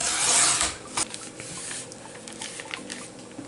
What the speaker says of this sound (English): I'm just going to cut it down just a little bit, about 1/8 of an inch off of it